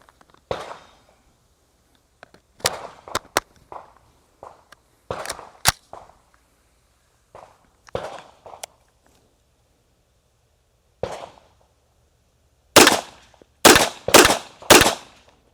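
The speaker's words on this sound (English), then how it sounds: "So I'm going to shoot a couple rounds out of it" Sharp gunshots from a Springfield Armory Kuna pistol fired outdoors, spaced singly and in small groups, ending with a quick string of four loud closely spaced shots; no talking.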